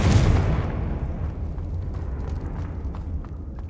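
A loud Confringo blast spell from Hogwarts Legacy bursts at the start, then a deep rumbling roar and crackling debris trail off over a few seconds, with no talking.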